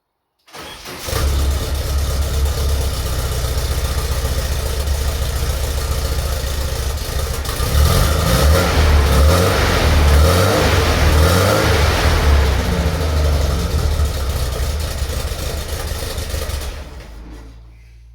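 A 1972 VW Type 3 Squareback with a newly fitted electric fuel pump cranks and starts, then idles with a loud, steady air-cooled chug up close. Its throttle is raised briefly partway through, and the engine is cut off at the end.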